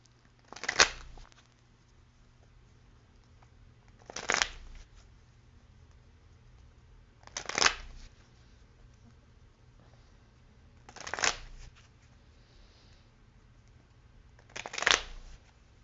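A Lenormand Kipper card deck is shuffled in five separate quick riffling bursts, evenly spaced about every three to four seconds, close and crisp against a quiet background.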